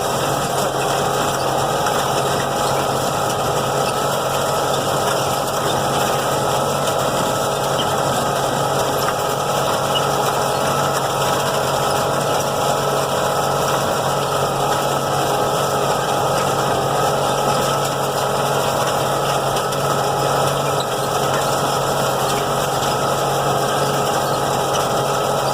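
Tractor pulling a seed drill while planting soybeans in a field gives a steady, continuous mechanical drone with a faint rattling hum, constant in level throughout and close by, with no voices.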